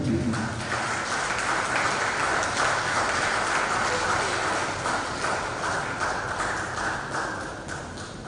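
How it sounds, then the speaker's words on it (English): An audience at a constitutional review gathering applauds the introduced speaker, Dr. James Koppel, with a dense, sustained wash of clapping that fades slightly at the end. "a round of applause for Dr. James Koppel"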